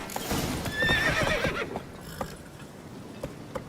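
Roach, the horse in The Witcher 3, whinnies loudly over clip-clopping hooves, then the hoofbeats continue in a quieter, irregular rhythm.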